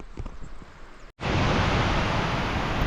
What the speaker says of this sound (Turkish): şu anda yağmur biraz rüzgarlı yağdı